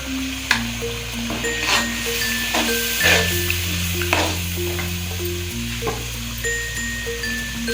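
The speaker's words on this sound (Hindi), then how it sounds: "और इस मसाले को भून लेंगे अभी" Mutton is fried with yogurt and spices for nihari, with a steady sizzle and irregular stirring scrapes and clinks, while a tonal hum underneath shifts pitch throughout.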